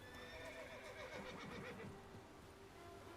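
Roach the horse in The Witcher III video game whinnies in a quick rising-falling call with a few hoof clops beneath, moderately close and alone without talk.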